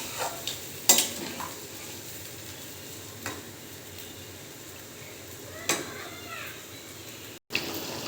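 Chicken curry simmering with tomato and a little water is stirred in a pan, a soft steady bubbling hiss broken by a few sharp utensil knocks against the pan, fairly quiet overall.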